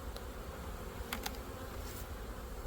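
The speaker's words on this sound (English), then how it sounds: "Big old wasps try to get in there." Large wasps buzz around an open beehive at an apiary, a steady close insect drone with a few sharper clicks, no talking.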